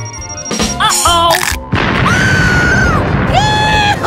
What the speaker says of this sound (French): Une explosion de chocolat!